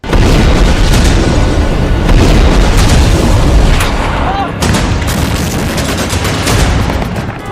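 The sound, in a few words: bombardment and gunfire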